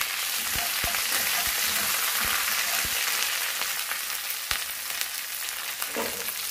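Ginger and green chilies fry in a pan for a Kerala-style masala dosa filling, giving a steady close sizzle with scattered crackles and a few stirring scrapes.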